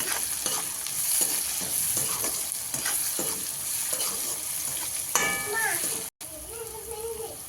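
Finely chopped green chillies and vegetables for pav bhaji are stirred in a hot pan, giving a close, continuous sizzle with rhythmic scraping strokes. A brief voice is heard near the end after a short break.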